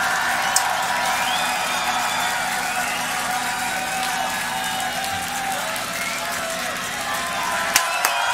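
Audience applause and cheering at the Grand Beatbox Battle 2019 quarterfinal, a steady wash of clapping from a large crowd heard from a distance, with a few sharp peaks near the end.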